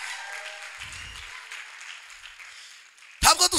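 A church congregation claps together, a soft, steady patter of many hands heard from across the room, before a loud voice cuts in at the end.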